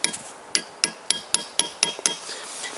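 A hammer taps a connecting rod cap on a Toyota VVT-i engine during teardown, about eight sharp metallic knocks spaced roughly a third of a second apart, close and clear with no talk.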